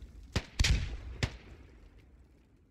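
Grenade blast in a video game: several sharp, loud explosive cracks in quick succession, the strongest followed by a rolling rumble that fades over about two seconds, with no talk.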